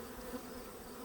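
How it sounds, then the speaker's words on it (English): Honey bees swarm around hive number 3 during a late-August inspection, producing a dense, steady buzz that fills the whole moment at close range without letup. "bees are going to be a little angrier than normal today because of the dearth that's going on"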